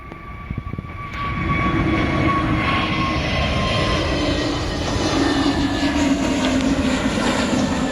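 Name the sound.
airplane engines during takeoff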